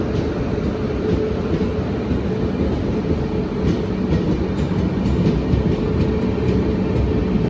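A Dahanu Road–Panvel MEMU electric passenger train runs steadily, with a dense, continuous low rumble of wheels on rail and a faint rhythmic clatter of track joints throughout, close and loud, with no speech.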